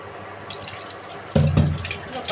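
Tap water runs and splashes into a sink, starting faintly and then gushing louder near the end as fish is rinsed under it.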